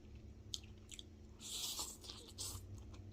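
Soft, close-up chewing of takeout Chinese noodles during a mukbang, with wet squishy bites and brief slurps coming in small bursts, faint and heard alone with no talking.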